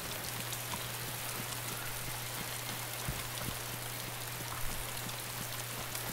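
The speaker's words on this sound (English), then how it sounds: "It's raining." Rain falling in the video game DayZ, a dense continuous patter of raindrops hissing evenly across the scene at a low, steady level over a faint hum, with no voices.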